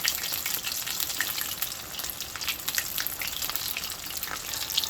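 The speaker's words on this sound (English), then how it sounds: "So you can fry them on medium heat to ensure that they don't get brown too quickly" Breakfast food fries in a pan over medium heat, a dense continuous sizzle full of crackling pops, close and fairly loud with no voices.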